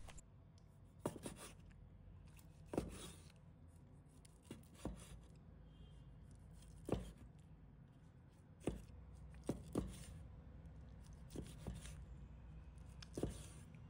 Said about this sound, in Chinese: 直接放入案板上，把它切成小圈